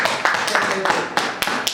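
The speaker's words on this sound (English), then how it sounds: "Clap your hands for business people." A church audience claps at a pastor's prompt during a sermon, with sharp irregular hand claps rising over a busy, reverberant crowd murmur.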